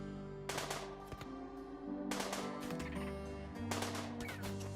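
Turret gunfire in RimWorld, rapid bursts of mechanical shots in several clusters, moderately loud over a steady background tone, with no talking.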